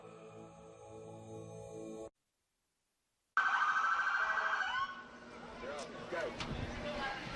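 Wailing police sirens sound loud and close after a brief silence, then fade into a busy outdoor parade crowd with clattering and distant siren tones.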